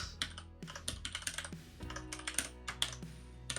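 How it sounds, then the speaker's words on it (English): Slow, uneven typing on a computer keyboard during Rust programming, a series of close, crisp individual key clacks with short pauses between them, quiet overall and without any speech. "Painfully slow typing."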